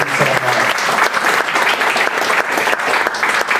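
Loud, dense applause from the audience at a panel on tech and financial inclusion held at an incubator, a short burst of steady clapping filling the room.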